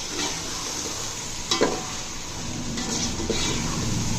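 Chopped tomatoes, green chillies and garlic fry in a pan with a steady hiss of sizzling, marked by a couple of brief scraping stirs.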